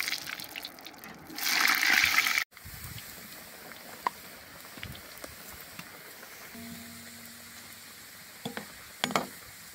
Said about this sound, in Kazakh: Алдымен картоптарды саламыз.